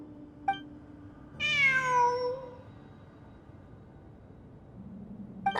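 A cat meows in Genshin Impact, one drawn-out, clear meow with a falling tone at moderate level, set against a quiet ambient game background with faint soft tones at either end.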